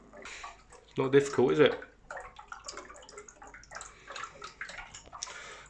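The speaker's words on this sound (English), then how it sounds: "Crack the nut. Gurgling away." Water gurgles and bubbles briefly from the heat exchanger of a Ferroli Modena boiler, a close burst of watery sloshing followed by faint drips and clicks while someone talks.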